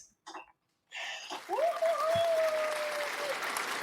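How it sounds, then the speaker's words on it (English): A studio audience breaks into steady applause to welcome podcast guest Anissa Bass, rising after a brief quiet start, with a sustained whistle gliding over the clapping. "You hear the applause?"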